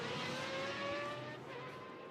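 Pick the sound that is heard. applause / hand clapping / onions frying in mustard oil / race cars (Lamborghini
race cars (Lamborghini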